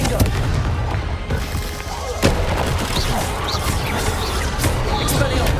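A Confringo blasting spell in the Hogwarts Legacy video game bursts with a sharp, booming blast amid dense, continuous game noise, with faint voices mixed into the steady backdrop.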